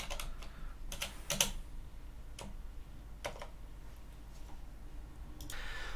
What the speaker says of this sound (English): I need to type in the login and the password